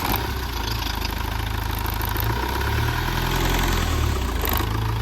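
A Mahindra Scorpio S10 2015 diesel SUV engine idling steadily up close, a low rough rumble with a rattling clatter that holds constant throughout.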